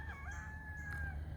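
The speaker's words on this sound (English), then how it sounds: "Can you hear that rooster crowing?" A rooster crows once in a long, drawn-out call, carried from some distance across a front and side yard over a low steady background rumble.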